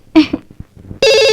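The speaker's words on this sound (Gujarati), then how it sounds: "ફોન આવ્યો." A telephone starts ringing loudly and steadily at the end, just after a brief spoken voice and some faint knocks.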